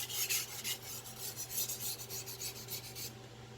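A Victorinox 8-inch Swiss steel chef knife is stroked across a Chosera whetstone in a steady run of rhythmic rasping passes, close and clear, then the scraping stops.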